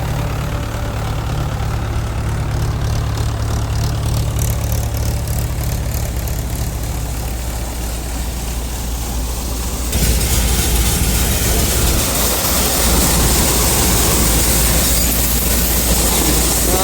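A Shaktiman thresher driven by a tractor at about 1150 rpm threshes chickpeas, a loud, steady mechanical roar and hum that grows louder and harsher partway through, with no talk.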